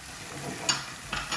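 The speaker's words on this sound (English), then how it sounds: "Stir it." Spices (salt, turmeric, coriander, chili and curry powder) are stirred in a hot pan for kidney bean dhaal, giving faint scraping strokes over a soft sizzle, with two brief louder scrapes close by.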